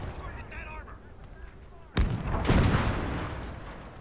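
A tank fires HEAT rounds in the WWII strategy game Call to Arms: Gates of Hell, in a Germany versus USA conquest match: a loud sharp cannon crack lands suddenly, then a heavy second boom rolls out into a long fading rumble.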